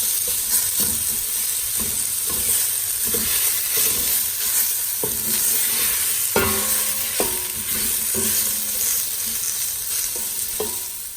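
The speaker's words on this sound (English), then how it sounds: "Saute the onion for 3 to 4 minutes on a medium heat." Onion sautés over medium heat in a pan for a Punjabi besan curry, a steady close sizzle broken by repeated spoon scrapes and clinks against the pan.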